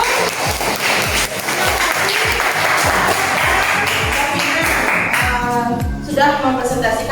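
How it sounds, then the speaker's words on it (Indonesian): Classmates give a presenting student group a sustained round of clapping in a classroom, loud and fairly even, with some rhythmic pattering and a faint voice near the end. "Tepuk tangan untuk kelompok 1."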